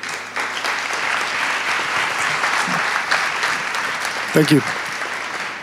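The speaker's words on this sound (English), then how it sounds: "Please welcome him with an applause." An audience claps to welcome a speaker at the re:publica 2014 conference, a full, steady round of applause lasting throughout, with a brief spoken thanks near the end.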